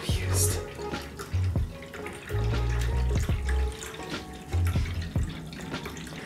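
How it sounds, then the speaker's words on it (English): Running water from an NPET cat water fountain, splashing and trickling nearby in bursts with steady flow between, while people talk over it at times. "I did not expect it to be a water fountain."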